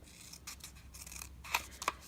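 Scissors snip through paper to form a mushroom-shaped bookmark, two crisp close cuts standing out near the end of a quiet stretch with faint handling noise.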